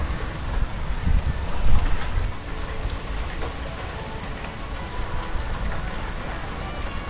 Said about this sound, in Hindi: सावन के महीने की पहली बारिश,